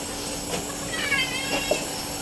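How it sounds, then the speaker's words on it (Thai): A cat gives soft, faint meows against a steady background hum, with a couple of brief calls standing out near the middle. "น้องแมวก็ได้กินด้วยครับ"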